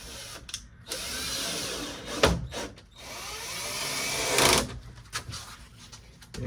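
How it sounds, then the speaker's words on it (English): A drill drives screws into a Rubbermaid 5 x 2 ft plastic storage shed during assembly. Sustained whirring runs are broken by short pauses, recorded close and loud. "Same screws, going to screw those in."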